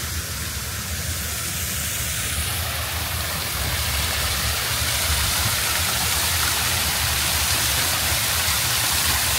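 A small waterfall at the back of a hotel pool area in Icmeler, Marmaris, Turkey pours in a steady, close, full-bodied rush of splashing water, loud and unbroken throughout with no voices.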